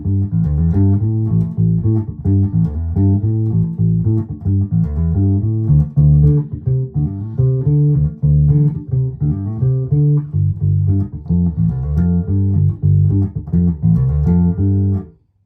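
Yamaha BBP34 P-style bass on its P pickup through an Orange Crush 100 amp, played as a steady, loud riff of round low notes with clear pitched attacks, continuing without pause and cutting off at the end.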